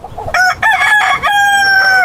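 A rooster crows with a long, sustained harmonic call after a few short clucking notes, close and loud, with no talk over it.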